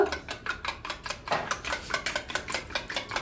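Milk is beaten in a pot for sweet curd, a fast run of close metallic whisking taps in a steady rhythm, about four strokes a second, with no talk.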